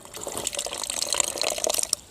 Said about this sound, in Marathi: अशा प्रकारचा हा रस याच्यामधून निघते